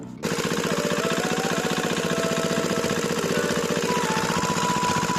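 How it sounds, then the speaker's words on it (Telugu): A repaired engine runs steadily after starting, its close, loud, rapid rhythmic beat chugging evenly throughout with no voices. "ఇంజిన్ బీటింగ్ అయితే వినేయండి మీరు కూడా."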